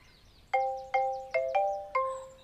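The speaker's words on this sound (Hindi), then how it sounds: "क्या बज रहा है फोन?" A mobile phone ringtone plays five quick chiming notes in a bright, bell-like melodic pattern, clear and fairly close, with no talk over it.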